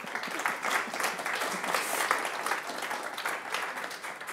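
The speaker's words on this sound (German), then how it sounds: "Ja, ein Applaus." Audience applause at a campus talk event as three speakers are introduced on stage, a continuous moderate patter of many hands clapping.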